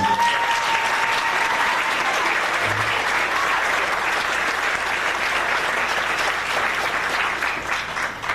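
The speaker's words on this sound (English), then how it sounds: "Give her a round of applause." Sustained audience applause at a stage event, a dense, loud wash of clapping from a large crowd that continues evenly throughout and fades slightly at the end.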